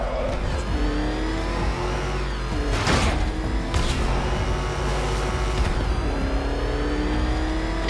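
The Batmobile in the Batman Arkham Knight video game racing in a Riddler race, its engine revving loudly with rising and falling pitch sweeps and a few sharp bursts, close and continuous throughout.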